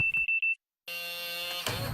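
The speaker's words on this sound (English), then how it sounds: "Ah, I forgot to set the alarm." Home security alarm system being set: four short, evenly spaced high electronic beeps, then a brief silence and a sustained tonal electronic buzz, heard close and alone without talk.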